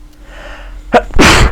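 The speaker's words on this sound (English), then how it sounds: "I need to sneeze." A single loud sneeze, a sharp intake followed by a forceful burst, close by with nothing else around it.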